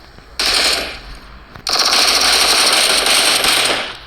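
Automatic gunfire in the mobile shooter PUBG Mobile, two loud rapid bursts, a short one followed after a brief pause by a longer sustained stream of shots, with no talking.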